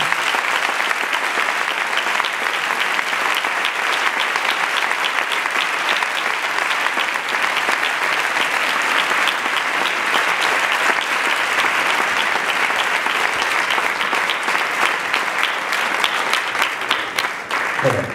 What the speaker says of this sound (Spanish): Un aplauso para Alberto.